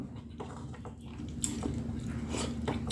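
Close-up biting and chewing of crunchy, hard grilled dried squid, daing na pusit, with repeated crisp crackles and soft mouth noises over a low steady hum.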